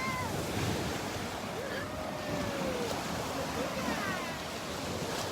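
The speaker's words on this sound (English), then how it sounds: "watching the waves roll in underneath the tree" Ocean waves rolling onto a beach in North Naples, Florida on a morning walk, a steady broad wash of surf with light wind buffeting the microphone throughout.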